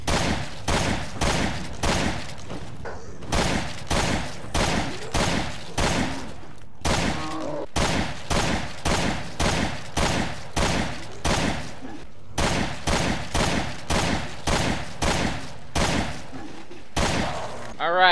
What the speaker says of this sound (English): let's test the AK-7 out on a Rotten